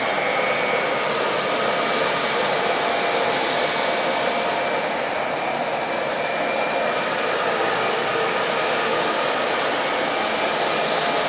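A Bissell Pet Hair Eraser Turbo Lift-Off vacuum cleaner roars loudly and steadily up close while it sucks spilled oatmeal off a floor, with a constant whine and no break.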